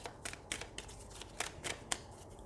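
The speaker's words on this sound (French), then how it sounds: "je vous propose de tirer une ou plusieurs cartes" Tarot cards shuffled and drawn by hand: quick, regular riffling flutters and soft card slaps, close up and fairly quiet, with no voices.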